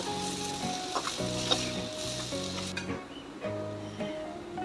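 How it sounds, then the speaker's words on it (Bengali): Shrimp fry lightly in oil in a wok, a close, continuous sizzle with a few metallic stirring clinks and scrapes, and no one talking. "এইদিকে আমার চিংড়ি মাছটা হালকা করে ভেজে নেওয়া মানে হালকা করে লাল লাল হয়ে গেছে"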